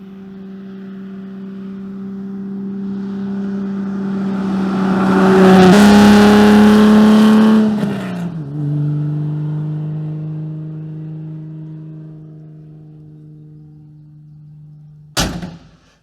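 A backdated race car engine idles with a steady, deep hum, then swells into a loud rev before settling back to idle, followed by a sharp door thud near the end.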